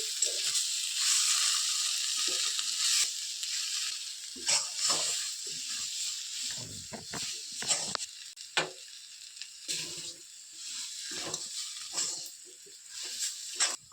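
Banana flower mixture with gram flour being stirred in a hot pan, a steady sizzle under repeated scraping strokes of the spoon, close and uninterrupted, with no voices.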